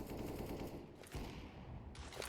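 Gunfire shot through a wall in CS:GO, a fast run of muffled automatic shots, fairly faint, with a short break and then another burst near the end, no talk over it.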